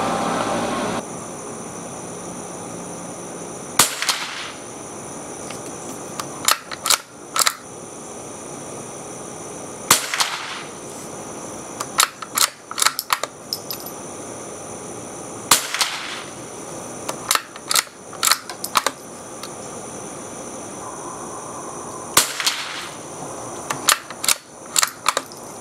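Sharp single shots from a Savage MK II rifle at a shooting range ring out in irregular clusters with pauses between, loud and close, with no talking.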